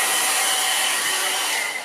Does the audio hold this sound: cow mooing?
no